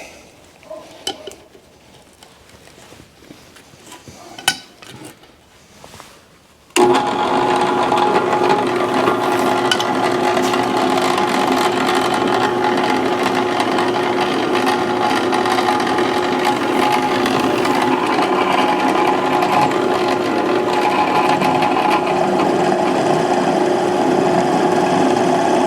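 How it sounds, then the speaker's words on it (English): Power drill boring holes through metal for a rear bumper on a Jeep CJ5, a steady loud grinding whir running continuously after a brief quieter start. "we're not really being that precise with the drilling the holes"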